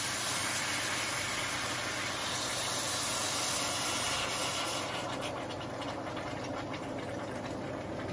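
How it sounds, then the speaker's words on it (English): Water heats to a boil in a pot on a stovetop, giving a steady, dense hiss and rumble that holds evenly throughout, with faint crackling bubbles growing toward the end. "I've got the water boiling."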